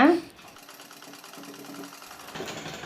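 A sewing machine stitching a small baby frock gives a steady mechanical whir, with speech over it.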